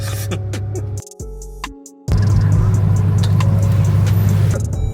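Jeep Trackhawk engine idling then revving loudly, a brief dip before a strong, sustained roar that holds steady to the end, close by.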